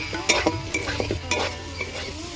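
Spices with coriander powder and sugar being stir-fried in a pan for Bengali chicken curry, a close sizzle broken by repeated spatula scrapes and knocks against the pan, no voices.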